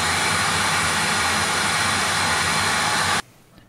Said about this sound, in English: Afterwards, we dry it with a hairdryer.